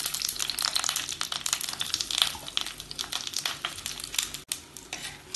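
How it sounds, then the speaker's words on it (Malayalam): Sliced brinjal sautéing in hot sesame oil in a pan, a dense, continuous crackling sizzle with scattered pops and stirring scrapes, close and fairly loud, no voices. "എണ്ണ ചൂടാവുമ്പോൾ മുറിച്ച് വെച്ച വഴുതിനങ്ങ ഇതിലേക്കിട്ട് വഴറ്റിയെടുക്കാം."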